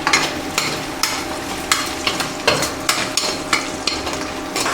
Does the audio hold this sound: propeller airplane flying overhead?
no